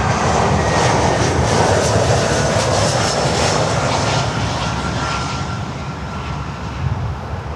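Big cargo freighter aircraft at Miami International Airport, a loud, steady broadband engine roar that holds strong throughout and eases slightly toward the end.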